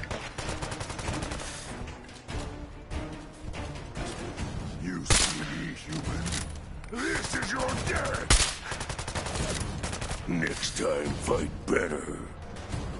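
Repeated gunfire in Fallout 4: Nuka-World mixes single shots and quick bursts amid combat noise, loud and close, with voices talking over parts of it.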